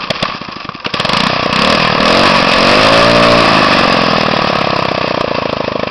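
A motorized lawn mower kart's small engine is given throttle, rising from a rough idle into a loud, close, buzzing rev that swells and holds steady, with no talking.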